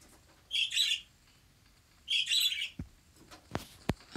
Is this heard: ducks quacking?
no